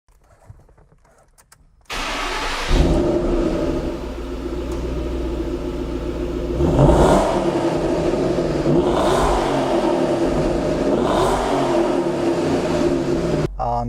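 A 2012 Ford Mustang Shelby GT500 cranks and fires into a deep, loud idle heard from outside, then is revved several times in rising, rumbling surges before settling back.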